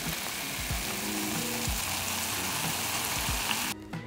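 Coca-Cola pours into a measuring cup and fizzes with a dense, steady hiss of tiny popping bubbles, close and constant until a brief drop near the end.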